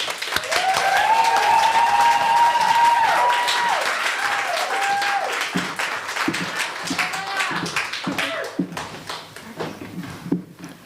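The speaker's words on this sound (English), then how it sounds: "Please, a warm round of applause for Savannah." Sustained applause from a crowd welcoming a speaker, dense and loud, with a few whoops and cheers early on, gradually thinning toward the end.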